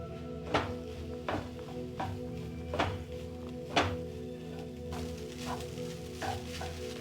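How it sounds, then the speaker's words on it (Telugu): Veg fried rice with dark soy sauce and vinegar stirred in a pan over a high flame: a steady low sizzle with regular clanking spatula strokes against the pan, roughly one per second, close and fairly loud, no voices. "ఈ సాసెస్ అన్నీ రైస్తో పాటు కలిసేదాకా బాగా కలుపుదాం"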